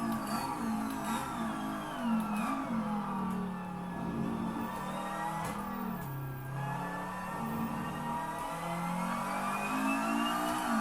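A race car engine revs and drones continuously in the Assetto Corsa racing game, its pitch rising and falling with shifts and throttle changes, loud and close throughout with no talking.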